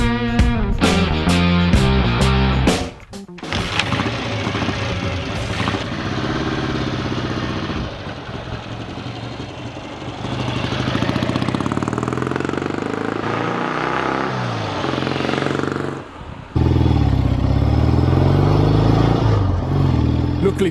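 A BSA motorcycle with a unit construction engine, a barn find with a cracked cylinder, runs close by, its engine note rising and falling through revs and idle with a couple of brief cutouts.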